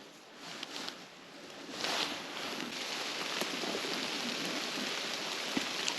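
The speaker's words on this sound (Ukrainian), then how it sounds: "Вітер здуває з дерев ще вечірній дощ." Steady patter of rain dripping from trees in a mushroom-picking forest as wind blows it down, with a soft wind-like hiss, a few heavier drops standing out, continuous and moderately quiet.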